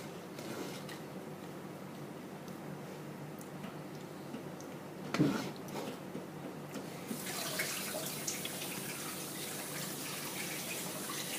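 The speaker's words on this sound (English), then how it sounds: "I'm washing my hands already." A kitchen tap runs steadily while hands are washed beneath it, a continuous close hiss of water with a brief splashy bump midway and brighter spray toward the end.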